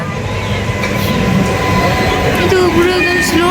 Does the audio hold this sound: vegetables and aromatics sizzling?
no